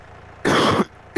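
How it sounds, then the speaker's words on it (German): A single harsh, throaty cough bursts out close by and lasts about half a second, followed by a brief start of another cough at the end of the clip. "Ja, ein bisschen Husten."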